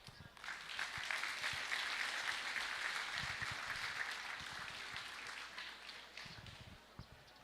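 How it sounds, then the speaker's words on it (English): Audience applauding at Palau's 30th Independence Day official ceremony in a capital courtyard after congratulatory messages are read, dense clapping that swells early and slowly thins, with low thumps and rustling beneath. "Let's give them another round of applause"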